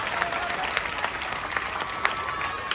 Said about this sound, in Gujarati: જોરદાર તાળીઓથી વધાવી લઈશું.